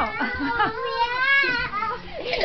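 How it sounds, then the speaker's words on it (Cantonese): A cat meows repeatedly in drawn-out, wavering cries, close by, with children's voices chattering around it. "係貓嚟㗎"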